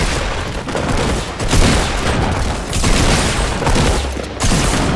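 Grenade explosions in Fortnite Battle Royale boom repeatedly in loud, dense bursts over five seconds, each blast roaring and washing out before the next, with no voices over them.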